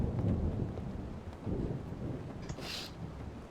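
A thunderstorm in the horror video game Static Dread, set around a lighthouse fishing village: a continuous low rumbling wash of rain and wind with swelling thunder rolls, steady and moderately loud, with no talk.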